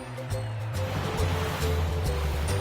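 Ocean surf rolls in a steady, close roar of breaking waves, with low tonal music running underneath throughout.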